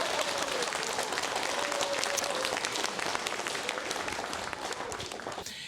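An audience applauds steadily at a lecture by an opera singer, a dense, fairly soft wash of many hands clapping that continues evenly, then fades slightly near the end.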